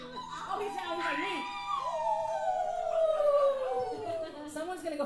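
Dogs howl in a long, rising-and-falling wail that carries across several seconds, with people's voices mixed in and chattering over the howling.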